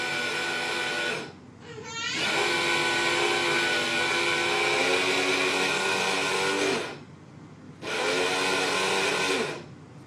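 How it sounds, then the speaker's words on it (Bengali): Electric blender grinding roasted cumin seeds into powder, a loud whirring motor run in two long bursts separated by short pauses, close by and without talk. "জিরাটা আমি ব্লেন্ডও করে নিয়েছি। এই মেশিনটাতে ব্লেন্ড করা যে এত সহজ"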